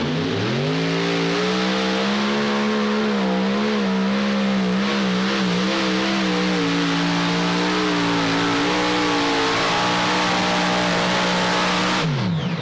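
A super modified pulling tractor at the 2017 Hillsboro tractor pull roars at full throttle, a loud, sustained engine howl that wavers in pitch while under heavy load for about twelve seconds before cutting off abruptly.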